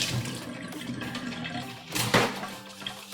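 Running tap water splashing over hands during a rinse at a kitchen sink while making vegan mac and cheese, a steady broadband wash with a louder burst of splashing near the end.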